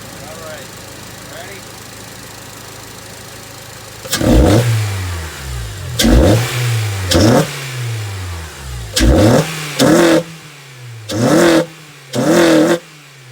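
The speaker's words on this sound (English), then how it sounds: "That's pretty much the intake sound. The high intake." Acura TSX (CL9) engine with a short ram intake idling, then revved repeatedly in short bursts, each rev rising sharply in pitch and dropping back, loud and close with an intake roar.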